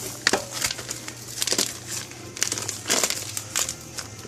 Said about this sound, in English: Once you get that meat out of the plastic